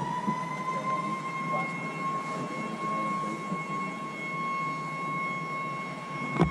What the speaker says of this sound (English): That siren is for everybody below the dam to understand that... we're about to release all this water.